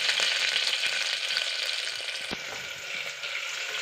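Onions go into hot oil with chillies and curry leaves, producing a loud, dense, steady sizzle close by, with light crackles and a brief clink of a utensil partway through.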